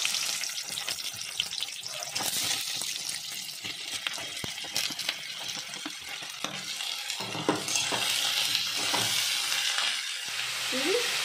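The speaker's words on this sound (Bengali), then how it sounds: "এটা দারচিনি 2টো ছোট ছোট টুকরো আর 2টো এলাচ, ঠিক আছে, এটা ফোড়নে যাবে।" Cinnamon pieces and cardamom pods sizzling in hot oil in a pan, a quiet steady crackle broken by scraping stirs and a few clinks, with no voices.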